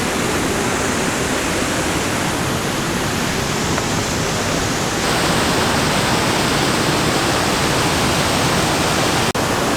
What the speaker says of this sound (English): So I think the waterfall continue over there.